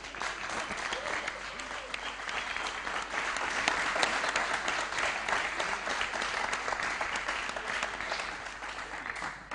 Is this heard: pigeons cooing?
no